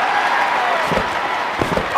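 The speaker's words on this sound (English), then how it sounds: "This crowd has gone bananas! That's so loud I can hardly hear you, Shane!" A loud, steady crowd roar fills an arena in the WWF Attitude wrestling game on Dreamcast, with a couple of dull thumps rising through the wall of noise.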